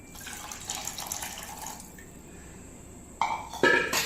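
Water pours into a cooking pot of raw rice for rice upma with a soft splashing gurgle for a couple of seconds, followed by quiet and a few clinks and knocks.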